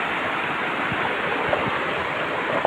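Steady rushing roar of water pouring down a waterfall, broadband and continuous throughout, close by, with no talking over it.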